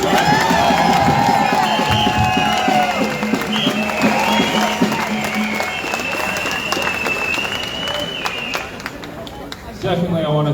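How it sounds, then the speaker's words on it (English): Crowd at an outdoor freedom rally against forced vaccination applauding and cheering, loud continuous clapping with shouts and whistles, fading slightly toward the end before a fresh burst. "everyone give yourselves a round of applause for being here"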